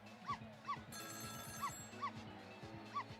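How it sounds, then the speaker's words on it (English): A telephone rings in the apartment next door in the video game Ghost Trick, a clear electronic ring in the middle of repeated short yelping, howl-like game sound effects over a low droning game soundtrack. "It was the sound of a telephone ringing, coming from the apartment next door."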